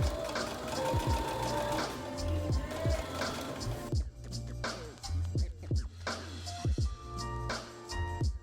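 A sewing machine stitches dress fabric seams in steady, rapid whirring runs with short stops and restarts, heard close up and alone.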